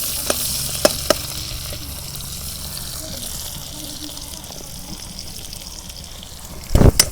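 Chopped onions fry in hot mustard oil outdoors in a village kitchen, stirred with a spoon: a steady soft sizzle runs throughout, with a few scraping clicks early on and a louder clatter at the end.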